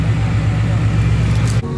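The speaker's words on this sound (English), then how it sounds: "We got the supercharged Mustang pulling in." A supercharged Mustang with a Vortec blower pulls in at a car show, its engine a steady, close, low rumble that holds for a couple of seconds before a brief dip.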